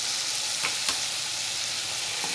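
Ground stuffing masala for stuffed brinjal frying in hot oil in a pan, a steady close sizzle with a couple of brief scraping stirs, no voices.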